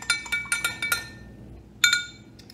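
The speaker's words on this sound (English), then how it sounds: "Stir it up." A spoon clinks repeatedly against a glass while food coloring is stirred into water in a kitchen science demonstration, a quick run of bright close taps, a pause, then a few more.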